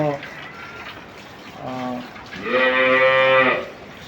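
A dairy cow on a farm lows twice, a short moo followed by a longer, louder one, close by over faint background noise.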